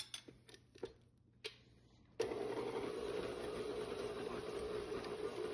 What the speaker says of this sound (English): I'm going to let this mix a little longer so the unmixed ingredients get mixed in.